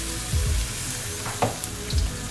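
A splash of water hits a hot frying pan and sizzles, with a few short hissing bursts over a steady frying crackle and no talking.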